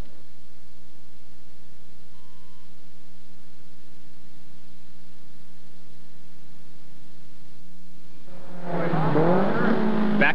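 Race trucks compete at Road Atlanta in a 1990 SCCA race truck event. A long near-silent stretch ends when a loud engine roar suddenly bursts in close by and continues to the end.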